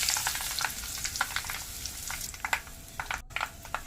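Garlic and mustard seeds fry in hot oil for a long bean palya, giving a steady close sizzle with bursts of crackle and spatter, and no voices.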